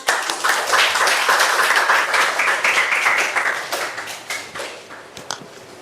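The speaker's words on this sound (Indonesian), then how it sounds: "tepuk tangan untuk jawaban kelompok 4." A classroom of students claps for a group's answer during a lesson, a dense burst of many hands that is loud at first, then thins into scattered final claps.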